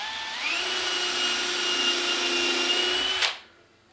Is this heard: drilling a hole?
yes